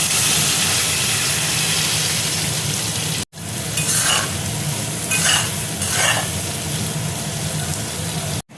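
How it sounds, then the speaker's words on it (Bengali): Chopped onions fry in hot oil with cinnamon, cardamom and cloves for a dhaba-style egg curry, giving a loud, steady, close sizzle with occasional stirring scrapes and a brief cut partway through. "পেঁয়াজ আমি লাল করে দেখো ভেজে নেব।"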